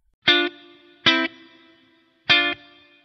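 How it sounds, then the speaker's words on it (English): Three strummed electric guitar chords through a Vox amPlug 3 High Gain headphone amplifier ring out with a spacious reverb tail trailing after each one, played alone with pauses in between. "on this model, the effects are reverb"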